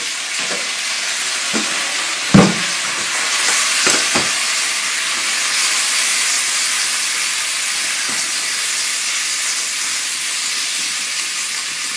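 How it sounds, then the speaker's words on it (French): Soy sauce is poured over onions frying in a pan and sets off a steady, loud steam hiss and sizzle that lasts throughout. A few sharp clinks of utensils stand out early on. "pour nos oignons qui sont en train de cuire, on va rajouter un petit filet de sauce soja"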